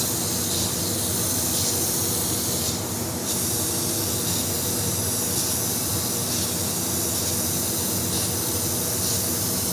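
An airbrush sprays paint pre-thinned with House of Color reducer, giving a loud continuous hiss that holds steady throughout with only slight flutters.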